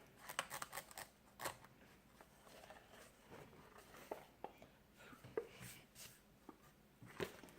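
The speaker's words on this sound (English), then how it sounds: "I'm going to cut through this paper." An X-Acto knife cuts through old paper while a book is prepared for a junk journal, making a series of faint, close scratchy slicing strokes in short irregular bursts.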